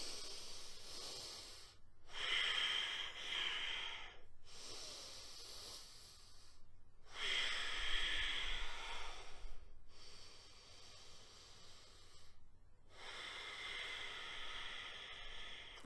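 Slow guided breathing for calming a panic attack: long, airy inhales and exhales alternate in steady, evenly spaced cycles, close and soft, with brief silent pauses between breaths and no speech.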